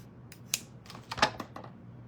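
A craft paper punch pressing out a small brown button shape, giving a few quiet, close clicks and snaps with a sharper crunch near the middle, alone without talk.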